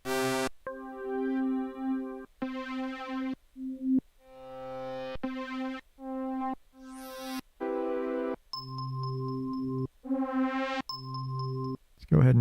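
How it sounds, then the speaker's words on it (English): Bell-like pad patch from the Operator synth in Ableton, playing a sequence of sustained tonal notes with bright metallic overtones and short gaps between them, loud and clear with no one talking. "Go ahead and get that bell going on."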